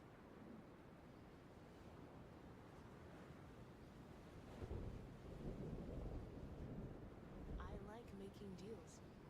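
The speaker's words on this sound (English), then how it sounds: "Looks like there's a storm going on in the division at the moment." Thunderstorm in the video game The Division, low rolling thunder rumbling under a steady rain wash, swelling midway and again near the end, with a faint game tone at the close.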